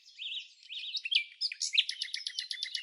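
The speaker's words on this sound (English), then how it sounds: "Let's meet the forest's fruity, feathered delight, the African green pigeon." African green pigeon calling in a Cameroon rainforest: a run of whistled, warbling notes that rise and fall, then a quicker series of clipped, trilling phrases, fairly close and clear with no voices.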